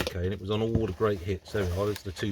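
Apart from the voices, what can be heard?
No distinct noise like a dog, phone or traffic.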